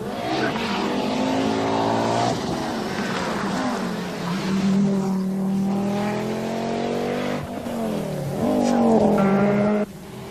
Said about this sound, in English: the dominance of the four-wheel drive Quattro and its versatility over all surfaces, including tarmac